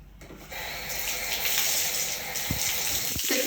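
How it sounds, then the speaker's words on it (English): Water pours steadily from a tap as a body is rinsed, a continuous close splashing gush with a few brief knocks near the end. "Rinse your body with water now."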